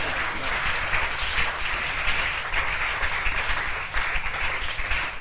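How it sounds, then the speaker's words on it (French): A church congregation claps and applauds to acclaim the name of Jesus Christ, a steady, dense wash of many hands clapping together at moderate volume for several seconds, with no talking. "On acclame le nom de Jésus-Christ."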